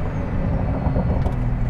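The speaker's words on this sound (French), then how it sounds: "on entend tout de suite l'échappement qui se réveille davantage. Avec le petit pop and bang" Pagani Huayra Roadster BC in sport mode, its exhaust burbling loud and close with a dense, steady low rumble and faint crackle.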